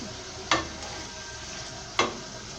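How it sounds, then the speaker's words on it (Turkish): Food frying in a pan at home, a steady, close sizzle with two sharp bursts of louder crackling as the food is stirred or turned. "Öyle bunu kızartayım."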